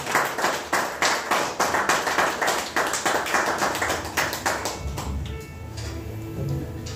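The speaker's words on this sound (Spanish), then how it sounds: "Dale un aplauso al Señor." A church congregation at a Sunday service claps in unison in a steady, rhythmic beat, about three claps per second, moderately loud. Partway through the beat loosens and fades into softer, scattered sound.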